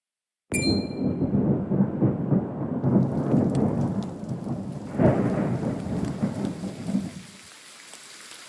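In the video game Triangle Strategy, a metallic ding opens a heavy downpour with rolling thunder, and a louder thunder swell comes midway before the roar fades out near the end.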